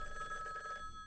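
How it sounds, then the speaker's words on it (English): A telephone rings inside the Higurashi Miotsukushi Matsuri game on PS2, a faint electronic bell tone with steady high ringing partials that holds for about a second and then fades out, with no one speaking. "There's something ringing. Is that a telephone?"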